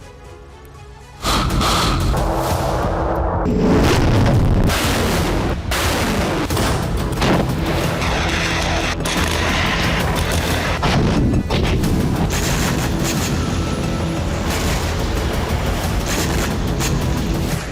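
Russian missile strikes hitting Lviv, Ukraine at night: a dense, continuous roar of blasts and crashing booms with sharp cracks, loud and sustained after a quieter opening second.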